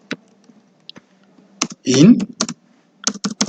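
Sharp clicks of computer keyboard typing come in short, close bursts, with a brief spoken phrase in the middle.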